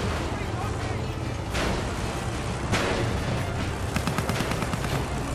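Battlefield 1 gunfire from above, with sharp repeated shots, bursts and a booming blast in a loud battle mix, heavy and continuous with rapid cracks near the end.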